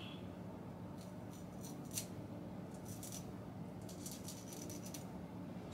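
Scissors snipping through the lace of a wig, a few faint crisp cuts over a steady background hiss, close by and quiet, with no talking.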